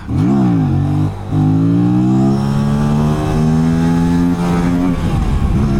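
An RS457 motorcycle revs hard in second gear, engine pitch climbing, briefly dropping, then holding a loud sustained high-revving drone close by.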